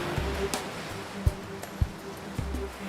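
Sea waves wash in a steady, soft surf rush, punctuated by a few low, dull thumps at irregular intervals.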